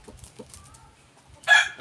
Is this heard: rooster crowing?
yes